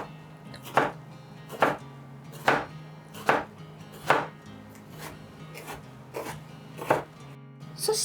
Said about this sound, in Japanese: もう本当2分の1を輪切りって感じ。